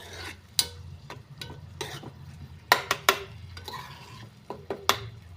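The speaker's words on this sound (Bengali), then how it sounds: "এইবারে আমি একটু ঢাকা দিচ্ছি আবার" A metal lid is set onto a cooking pan of vegetable curry with a little added water, giving several sharp clanks over a low steady sizzle close at hand.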